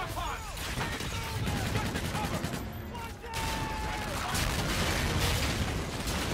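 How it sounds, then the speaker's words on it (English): Dense rapid gunfire and booming explosions in the shooter game Call of Duty: Infinite Warfare, a continuous loud barrage of shots and blasts across the whole stretch with no clear pause. "Those are explosions."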